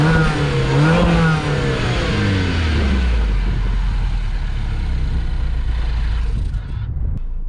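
A 2015 MINI Countryman S with a 1.6-liter turbocharged four-cylinder engine is heard up close. It revs loudly, the pitch climbs and falls, then settles into a steady drone before cutting off near the end.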